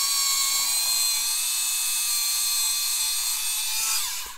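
A small power drill whines steadily through plastic parts of a Bandai 1/144 Star Wars AT-AT model kit, a continuous high-pitched buzz heard close up, winding down at the end.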